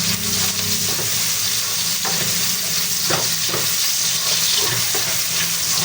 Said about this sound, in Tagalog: Diyan na po tayo mag-gigita ng ating bawang, sibuyas, at yung ating kamatis.